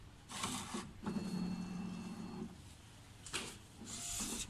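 An A3 printer's print carriage moving out, heard as a faint mechanical whirr and hum with a short steady motor tone in the middle and soft shuffling noises at either end.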